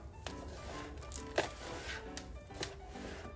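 Potting soil being mixed by hand with pumice powder, a faint, close, gritty rustling with a few soft crunchy scrapes and no voices.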